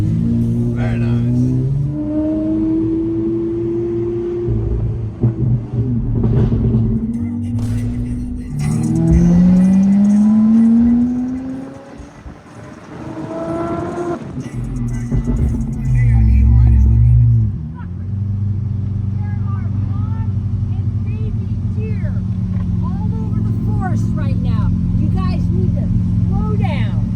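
A Lamborghini engine drones loud inside the cabin while driving, with revs climbing in sweeping rises and a deep steady rumble, and people talk over it throughout.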